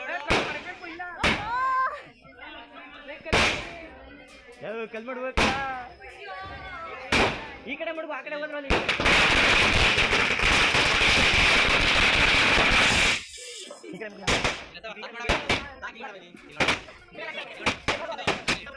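Loud firecracker bangs at a child's birthday celebration go off one after another at irregular intervals, with a long crackling burst in the middle and people talking between blasts.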